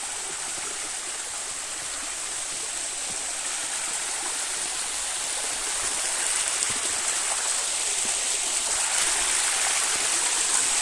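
Steady rushing of a flowing stream fills the scene, a continuous bright hiss of water close by that grows slightly louder midway, with no voices.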